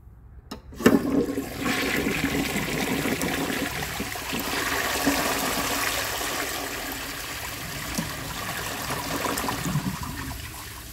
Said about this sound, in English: So let's give it a flush and see how it does on tests.